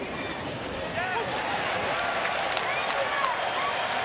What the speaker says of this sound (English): Little extra cheer from the crowd.